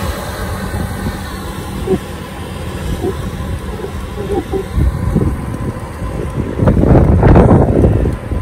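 Strong wind buffets the microphone in a constant low roar while riding a motorcycle on the coastal southern route at Congot, Yogyakarta, with a steady engine rumble that swells louder near the end.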